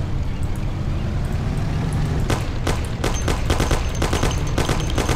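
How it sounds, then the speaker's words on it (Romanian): A Thompson submachine gun in the Mafia game fires several sharp, rapid bursts of close automatic fire over a low, steady engine rumble. "Take my Thompson. You and Sam shoot them."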